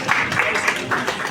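An audience applauds a presenter at a pitch event at the CCCA Pitch Corner, a short burst of close, dense clapping with a slightly uneven rhythm.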